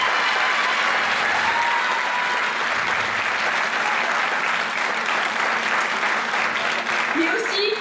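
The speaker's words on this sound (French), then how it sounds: "Je vous demande de l'applaudir, s'il vous plaît." Sustained, dense applause from the audience at a Miss Ronde Poitou-Charentes 2013 pageant, loud and continuous throughout, with a voice briefly rising near the end.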